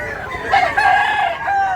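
A medium-size rooster crows at a busy poultry market in Mantalungon, Cebu, its drawn-out, wavering call rising over a constant murmur of other birds and crowd noise.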